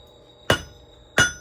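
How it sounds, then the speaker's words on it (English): Metal is hammered on the edge of an anvil in a blacksmith shop. Two sharp, ringing blows land close by, a little under a second apart, each with a short metallic decay. "I'm going to take this down and hammer. Then I'll use the edge of the anvil here."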